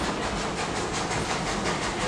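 Frisco Line Railroad excursion train at Silver Dollar City rolling steadily along the tracks, a continuous close rumble and rattle of cars with faint rhythmic clatter, no voices.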